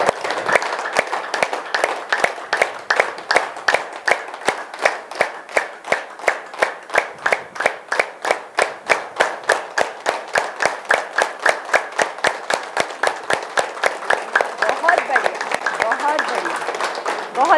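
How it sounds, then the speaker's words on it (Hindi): A group claps hands in unison during a laughter yoga session, a long run of sharp, evenly spaced claps in a fast steady rhythm, close and loud, with no talk over them. "ताली बजा लेते हैं।"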